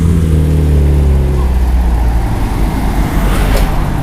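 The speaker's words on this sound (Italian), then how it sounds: "Come potete vedere è un continuo via vai di macchine." A car engine revs loudly close by at a JDM and supercar meet, its steady droning tone easing off as the car pulls away, leaving loud, continuous traffic rumble with no one talking.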